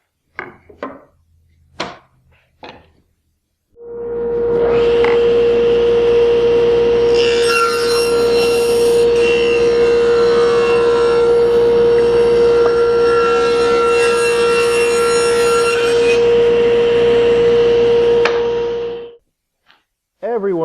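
SawStop table saw cutting a rabbet joint in wood: a loud, sustained whining blade tone with rough rasping as the board feeds through for about fifteen seconds, preceded by a few light knocks and then winding down.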